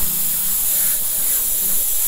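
An airbrush sprays paint for graffiti, giving a steady, close hiss of compressed air that holds even throughout with no talking.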